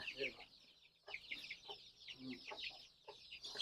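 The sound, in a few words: young chicks clucking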